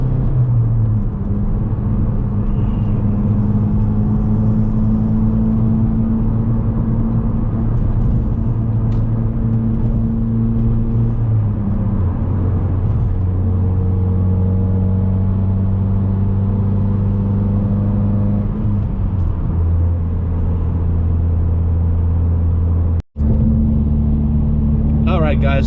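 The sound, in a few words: car driving on the road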